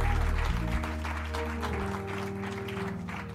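A church congregation claps and applauds together during a worship service, the steady clapping running beneath sustained organ or keyboard chords throughout.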